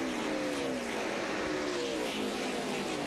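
NASCAR Nationwide stock cars race at Nashville in the 2010 Federated Auto Parts 300, a dense, constant engine roar from several cars with pitch sliding as they pass and accelerate.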